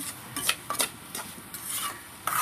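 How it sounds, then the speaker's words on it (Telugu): Beetroot fry with a little turmeric being stirred in a pan, giving soft scraping, rubbing strokes in an irregular rhythm, close and moderately loud with no talking. "బీట్రూట్ ఫ్రై కొంచెం పసుపు వేసుకొని తిప్పేసుకున్నాం"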